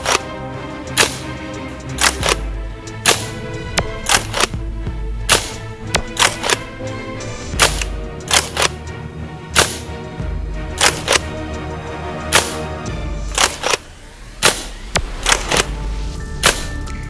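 A CO2-powered Nerf-style dart blaster fires again and again, each shot a sharp, loud pop with a hissing crack, coming at fairly regular intervals of about half a second to a second over a steady background hum.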